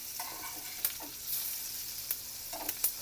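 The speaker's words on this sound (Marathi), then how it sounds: "एक साईड झाले की दुसऱ्या साईडला पलटून घ्यायची मस्त खरपूस भाजायचा" Coriander vadi shallow frying in oil in a pan, with a steady close sizzle and a few scraping clinks as pieces are stirred and flipped.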